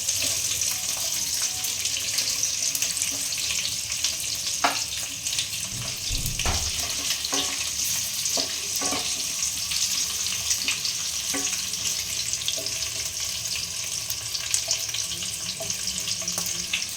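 Sliced large onions fry over medium heat in a pan for restaurant-style matar paneer, a loud, steady, close sizzle with occasional clicks and scrapes of stirring.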